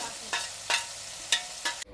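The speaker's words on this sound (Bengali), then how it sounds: "তারপর আদার পেস্টটা দিয়ে দেবো, এবার লঙ্কার পেস্টটা দিয়ে দেবো।" Ginger and chili pastes fry in a hot pan for mutton kosha, with four quick scraping stirs cutting through a steady sizzle before the sound stops abruptly.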